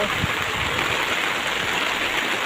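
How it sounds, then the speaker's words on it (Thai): Water flowing strongly after rain, a dense, even rushing hiss that continues without a break, close and moderately loud. "น้ำไหลแรงมากเลยค่ะ"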